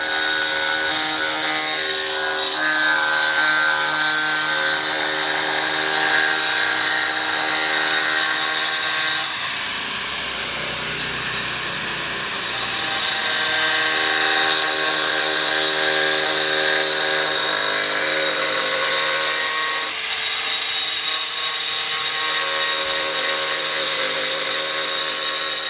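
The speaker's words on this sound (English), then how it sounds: "Everybody uses those grinders for everything" An angle grinder cuts stone on a home building site in Da Nang, Vietnam, a loud, continuous high whine that drops into a lower grinding tone partway through before rising again, with no voices.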